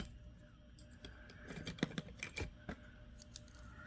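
Wire cutters snip a small piece of 14 gauge wire, giving a few faint, sharp metallic clicks close by against a quiet room, with no talk.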